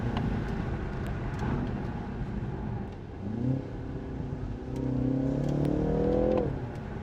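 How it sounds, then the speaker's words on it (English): A BMW with upgraded exhaust and paddle-shift transmission rumbles and burbles through upshifts, the engine tone rising in a few steady pulls with deep popping burble underneath, close and moderately loud, no talk. "I'm hitting the paddle now. Getting some burbles."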